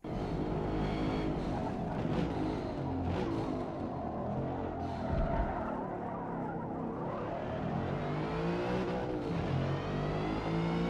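A BMW M5 super sedan races in Forza Motorsport, its engine revving and shifting continuously with rising and falling pitch and brief tyre skids, loud throughout.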